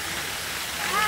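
A waterfall in the Himchhari hills pours with a steady, broadband rush of falling water that swells slightly louder toward the end of the short stretch.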